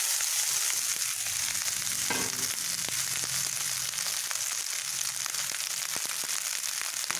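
Leftover rice frying in a pan with egg and onion gives a loud, steady, close sizzle throughout, with occasional scrapes and clatters of stirring and no voices.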